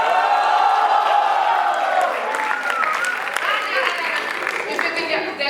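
A student theatre audience at a freshers' production cheers and applauds loudly, a dense wash of clapping and whoops that gradually thins out over several seconds.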